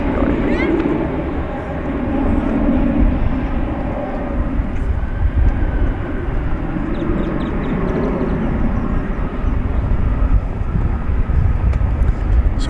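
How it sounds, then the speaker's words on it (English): An American Boeing 737-800 airliner bound for Salt Lake City at DFW Airport, a loud steady jet engine roar that stays constant throughout, with a voice talking over it. "This is flight 2993. It is going to Salt Lake City. 737-800."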